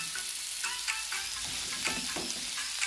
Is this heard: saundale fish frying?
yes